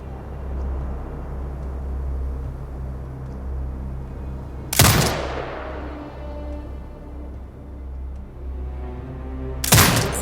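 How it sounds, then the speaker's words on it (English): Two heavy turret shots in Sniper Ghost Warrior Contracts 2, each a sharp loud blast with a long rolling tail, spaced about five seconds apart over a low ambient hum. "Exit binocular mode and command the turret to fire."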